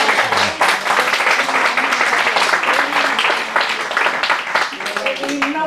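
An audience at a talk on the Gospel in Egypt applauds in a dense, sustained burst of clapping that fills the whole stretch, with voices mixed in underneath.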